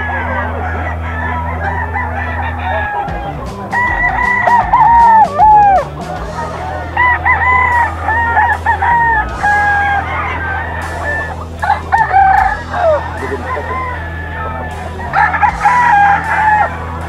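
Several young roosters crow at a Bocaue pet market, the calls rising and falling repeatedly over a steady low hum of crowd and market noise, with other fowl nearby.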